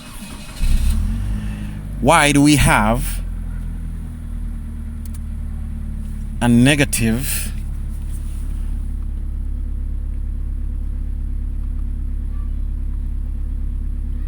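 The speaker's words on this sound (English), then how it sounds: "So let's start the car." A 1998 Mitsubishi Pajero iO, a car with an ignition coil fault, cranks in two short bursts and then idles with a steady low rumble, while a voice speaks briefly near the start.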